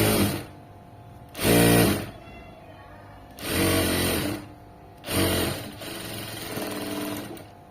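A sewing machine stitches piping onto cloth in three loud, close whirring bursts separated by quieter pauses, with a softer fourth run near the end.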